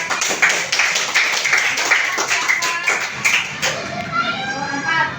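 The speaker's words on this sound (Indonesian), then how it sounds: "Tepuk tangan dulu teman." Children in an elementary school classroom clap their hands in a quick, rhythmic burst of patterned claps lasting about four seconds, then stop as voices carry on.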